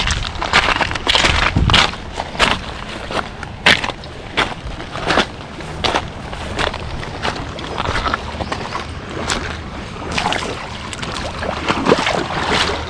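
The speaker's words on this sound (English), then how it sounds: "More fast moving water here." Quick-flowing water in a stream on the North Branch Saline pours in a continuous close hiss, broken by irregular splashy clicks and thumps, with no talking.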